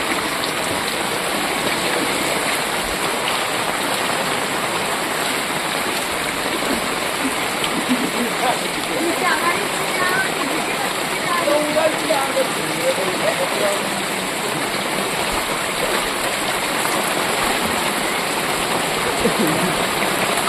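Heavy rain and rushing floodwater pour without a break through the flooded Katkari settlement at Sarvatirtha Taked. The roar is dense and steady for the whole stretch, with no distinct pauses.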